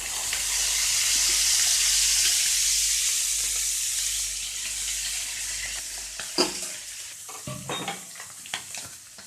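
Mathi sardine fish frying in hot oil, a loud bright sizzle that slowly fades, followed by a series of clinks and scrapes from turning the fish.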